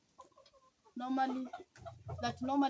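A live chicken clucks in a few short bursts, close and clear, with some speech-like vocal sounds overlapping the calls.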